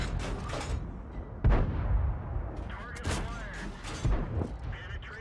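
Video game artillery fire lands as three heavy booming blasts a second or so apart. A player's voice talks over the battle throughout.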